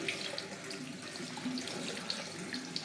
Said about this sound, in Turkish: Yavaş yavaş Asıl suyumuz gelmeye başladı.